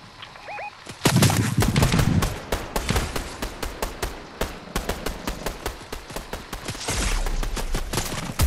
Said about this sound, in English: Be careful, because I hear a lot of shooting.